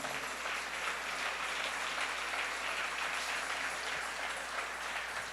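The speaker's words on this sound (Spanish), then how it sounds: "Denle ese aplauso al Rey." Congregation applauding in a church service, a steady wash of many hands clapping at moderate distance throughout, with no individual claps standing out.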